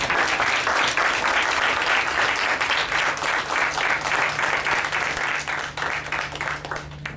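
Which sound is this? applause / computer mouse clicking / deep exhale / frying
applause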